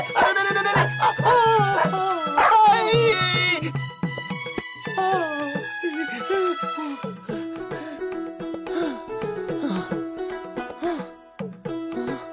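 Cartoon dog yips, whimpers and howls in a series of sharp, pitched cries, loud and close at first, then quieter broken barks and whines under a musical background.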